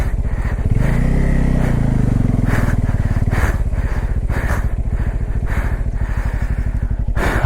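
Bajaj Pulsar N250 motorcycle ridden off-road through mud, its engine loud and close with a rapid pulsing exhaust that rises in a long rev and keeps throbbing steadily.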